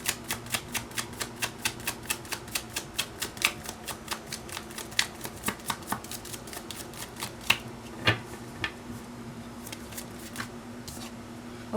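Tarot cards being shuffled and drawn, a quick run of crisp, evenly spaced flicks and riffles that slows into scattered snaps, close but fairly quiet, with no talking.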